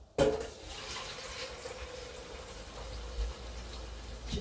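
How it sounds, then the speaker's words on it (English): Water poured into the drawer of a Ninja Dual air fryer after roasting potatoes, a steady close splashing rush that starts abruptly and runs on with no talk. "Just putting some water into the drawer so that it makes clean up easier."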